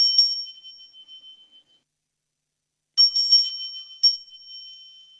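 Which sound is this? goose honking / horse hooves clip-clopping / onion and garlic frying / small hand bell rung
small hand bell rung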